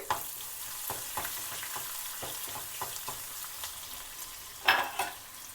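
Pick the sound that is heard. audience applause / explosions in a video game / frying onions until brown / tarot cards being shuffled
frying onions until brown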